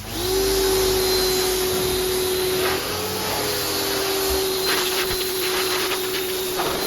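A pressure washer or spray hose washes down a removed 304 V8 engine from a 1978 Jeep CJ7, a loud continuous motor drone with hissing spray, steady throughout, with no talking.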